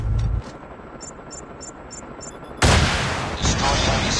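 An enemy stealth helicopter in a military shooter game drones faintly under steady battle noise, then a sudden loud blast of gunfire or explosion kicks in and lingers as a dense roar.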